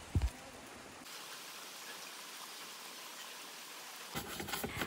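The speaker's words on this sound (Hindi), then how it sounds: "अभी तक बारिश हो रही है, देखो बारिश ही बारिश हो रही है, रुकने का ही नाम नहीं ले रहा।" Steady rain falling outdoors on a rainy day, a faint, even hiss of drops that runs continuously, with a brief thump at the start and louder clatter near the end.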